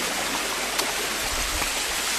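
Water rushes steadily at a waterfall stream, a dense, continuous close roar with no voices.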